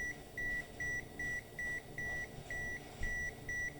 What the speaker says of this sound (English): Nice loud beep.